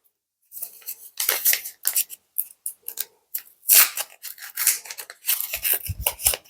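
A trading card booster pack from a nature-themed collector box being torn open, with bursts of crinkly foil tearing and rustling of cards, close and fairly loud, no talking.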